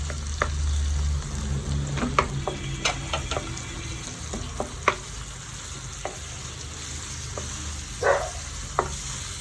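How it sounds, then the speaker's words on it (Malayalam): Chopped tomatoes frying in a pan for chicken chukka, a low steady sizzle broken by repeated spoon scrapes and clicks of stirring, close and without talk. "ഇനി തക്കാളി അരിഞ്ഞത് ഇട്ട് കൊടുക്കാം."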